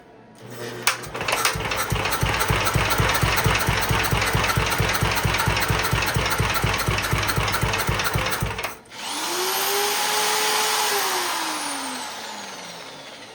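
A 1963 Gravely tractor engine runs steadily and loudly for about nine seconds with a fast, even mechanical pulse. It then cuts to a smoother whine that sweeps up and falls away.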